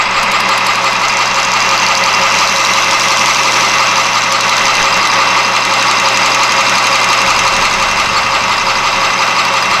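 A boring bar cuts into galvanized metal on a lathe for a patio umbrella bushing, producing a loud, continuous machining drone and hiss that holds steady throughout with no speech.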